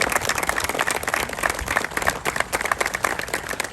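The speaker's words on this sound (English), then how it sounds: "Give him a big round of applause." Steady, dense applause from a crowd, many hands clapping continuously throughout without any voices.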